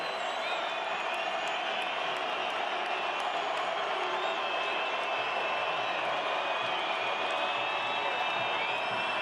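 Constant, dense roar of a football stadium crowd at a North Texas Mean Green versus UTEP Miners game, steady and loud throughout with no breaks.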